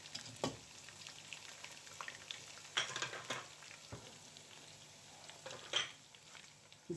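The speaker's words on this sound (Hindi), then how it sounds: "चिकन को मैं कुछ देर भून के निकाल लूँगी।" Chicken sizzling in a pan as it is fried for a lemon korma, a soft, steady crackle with scattered pops and a few brief stirring scrapes, fairly quiet with no talking.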